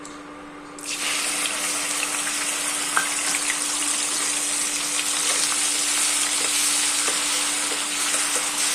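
Chopped onion and garlic frying in a pan, a loud continuous sizzle that jumps up suddenly just under a second in and holds steady, with a few faint clicks of a spoon and no speech.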